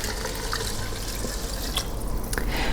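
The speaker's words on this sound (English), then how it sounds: "And now I'm going to add 4 cups of water to this." Four cups of water pour into a soup pot of lentils, a steady splashing, trickling flow close by with some drips, no talk.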